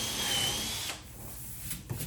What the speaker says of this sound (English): So I'm going to drill into white here so you can see what that looks like.